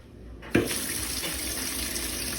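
Kitchen tap water gushing steadily into a sink while an octopus is rinsed, the flow surging on abruptly and then running as a close, constant splashing rush.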